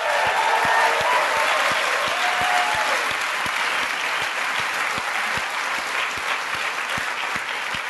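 Audience applause at the close of an evening talk show honoring its speakers, a steady, dense wash of many hands clapping that holds loud and even throughout with no voices.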